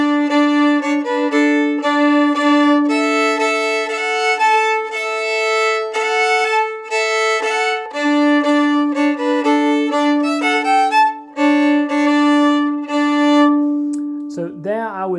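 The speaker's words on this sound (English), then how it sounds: "If you double stop the string below, then you should get a nice harmonization which fits in with your tune." A fiddle plays a steady tune with double stops on the lower string, sustained bowed notes ringing together in harmony, close and loud throughout.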